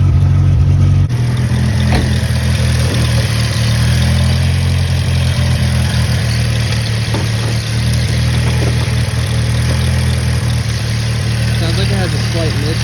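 A Datsun 521 engine idles steadily with a chattery, ticking valvetrain up top and a slight miss, a loud, close, continuous rumble running for several seconds with no voices.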